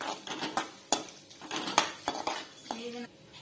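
A metal spoon scrapes and clinks in a pan as whole spices, cloves, cumin, fennel and torn curry leaves, are stirred and sautéed for mushroom gravy, in quick irregular knocks close by with a faint sizzle.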